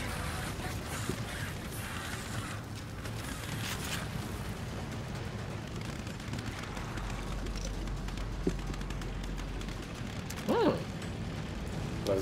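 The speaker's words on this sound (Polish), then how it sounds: "I drabina się opuściła." Ladder mechanism lowering in the video game The Evil Within, a quiet ratcheting, creaking mechanical grind with a few metallic clanks near the end, no talk.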